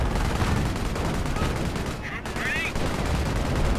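Artillery fire in a tank battle video game: a dense stretch of loud, repeated gunfire bursts, followed by a brief pause and metallic ringing, then more firing.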